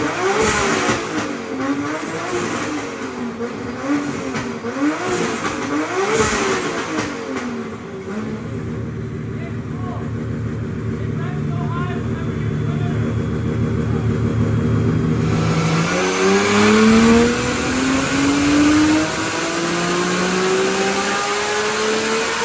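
A Nissan Silvia S15 with a 2JZ engine revs hard and repeatedly on a dyno, then settles into a sustained high-pitched roar that climbs steadily in pitch, loud and close with no talking.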